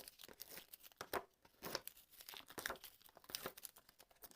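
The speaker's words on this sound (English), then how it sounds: "And we'll just peel the back off of those." Backing is peeled off finger lift foam pads on patterned card, giving faint, close crinkling and tearing rustles in short irregular bursts.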